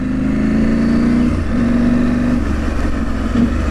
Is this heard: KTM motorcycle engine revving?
yes